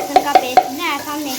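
A spoon stirs a tomato, chili and garlic paste frying in a pan, three sharp scraping knocks over a steady sizzle, close and loud, with the sizzle continuing alone afterward.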